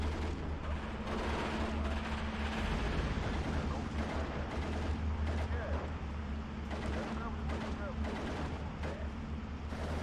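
Continuous distant gunfire and artillery rumble from the WWII strategy game Steel Division 2 on the Soviet Iasi campaign, a dense, steady battlefield din of overlapping shots and booms, with someone talking over it.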